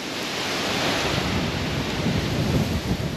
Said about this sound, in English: Have a look at this dust storm coming.